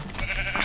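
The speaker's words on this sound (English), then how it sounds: "Oh, sheep." Sheep bleating in Minecraft, a short wavering bleat from a blocky farm animal, fairly close and heard alone with no talk over it.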